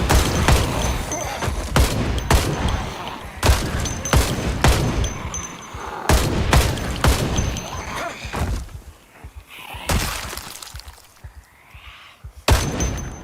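Gunfire in the zombie survival game Project Zomboid: a rapid series of loud, sharp gunshots in irregular bursts, close and punchy, with brief gaps between volleys and faint background noise.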